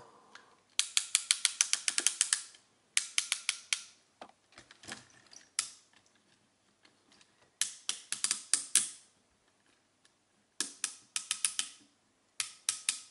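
Ratchet shoulder joints on a Robo Machine Jet Heli toy click in quick bursts of rapid ticks, close and crisp, with short pauses between each series of clicks and no talking.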